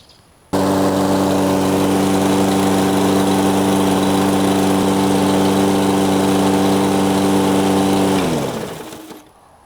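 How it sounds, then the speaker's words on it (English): Toro Recycler Max walk-behind lawn mower with a 163cc engine and 13-gauge steel deck starts up and runs loud and steady, a constant close engine drone that winds down near the end. "let's see how loud the mower runs"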